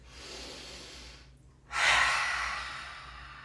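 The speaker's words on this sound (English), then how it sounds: "take a nice inhale through your nose and exhale out your mouth" A slow, deep breath drawn in through the nose, a short pause, then a long, audible exhale through the mouth, close and alone in a quiet room.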